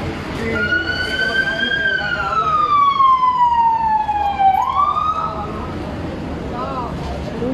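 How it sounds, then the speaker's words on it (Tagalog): A single ambulance siren wails, sweeping slowly downward then rising again, loud and close over steady traffic noise and road rumble near a collapsed crane on a Skyway construction site. "Buti may ambulansya na."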